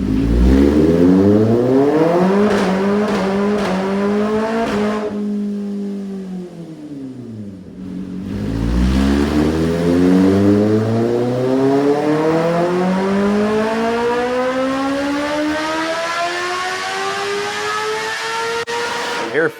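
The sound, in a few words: Kawasaki ZX-10R motorcycle engine revving on dyno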